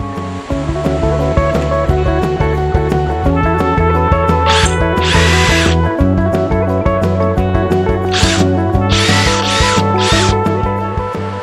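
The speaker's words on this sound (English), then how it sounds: "Remove the 3 bolts securing the hinge to the body of the Jeep" A power tool whirs and ratchets steadily while backing out bolts from a Jeep tailgate hinge, with repeated mechanical clicking, brief high-pitched bursts of spinning, and a loud, close, continuous drive.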